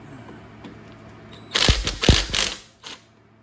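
A ratchet loosens bolts on a car bracket during summertime maintenance, a close burst of rapid clicking and clunking mid-clip after quieter faint clicks, tapering off at the end.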